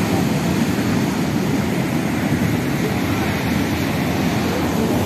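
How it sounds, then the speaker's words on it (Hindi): Ocean waves breaking on Baga Beach in Goa, a loud, continuous roar of surf close by that fills the whole scene without pause. "आप लहर की आवाज़ सुन रहा हूँ"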